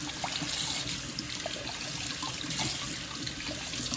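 Water runs steadily from a tap into a sink during washing, a continuous close splashing and trickling rush with no voices.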